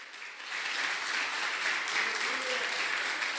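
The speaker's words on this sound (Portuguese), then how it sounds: "Aplauda, é para Jesus." Church congregation applauding during a sermon, a dense, steady wash of clapping from many hands that swells slightly after the start and holds evenly, with no talking.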